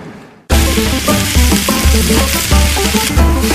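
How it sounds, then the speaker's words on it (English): Loud, crackling sizzle of a large batch of shrimp heads frying in a pan, starting abruptly and continuing with rhythmic stirring and scraping. "Sizzling in this frying pan is a huge batch of shrimp heads."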